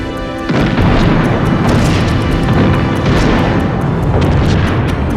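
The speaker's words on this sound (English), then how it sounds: "There are 6 explosions, and 6 Japanese vessels are damaged or destroyed" A sudden heavy blast erupts after a brief lead-in, followed by a sustained rumbling roar with repeated crackling bursts and booms rolling on.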